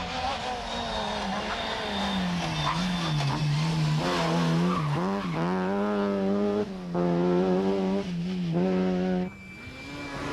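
A rally car speeds through a stage outside Fintona at the 1995 Ulster Rally, its engine loud and close, the revs climbing and dropping with gear changes and a brief cut near the end, tyre noise mixed in.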